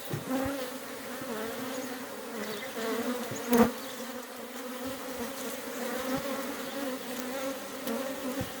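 Honey bees buzz continuously around a nuc box hive, a dense droning hum with one brief louder thump partway through.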